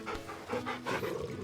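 A dog in Final Fantasy XVI pants in quick, steady breaths while being petted, close and clear with no talking over it, lasting a second or two.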